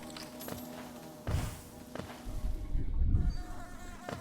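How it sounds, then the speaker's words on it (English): A swarm of bees buzzes in the video game Hollow Knight, a hum that rises and falls under game thumps and footsteps, moderately loud. "to the right side we have this area full swarming with bees."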